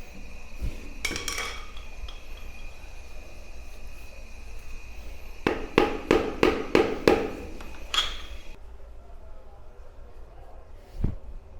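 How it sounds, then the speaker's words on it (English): A metal drain cover at a London university is worked loose, with scraping and clinking followed by a quick run of sharp metallic knocks and taps, then a lone clank after a quiet pause. "we'll try and get this cover up and see what's underneath"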